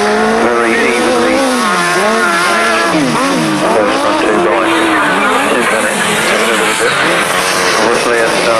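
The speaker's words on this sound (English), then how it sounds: "both men mounted on 1000cc Kawasaki machines" Loud, close roar of 1000cc Kawasaki grasstrack racing motorcycles at a 1990 meeting, engines revving and wailing in rising and falling pitch as they race past, with a commentator talking over them.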